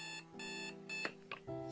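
An alarm clock going off late at night, sounding as a loud electronic ring in repeated bursts with short gaps between them, close and alone, with no voices.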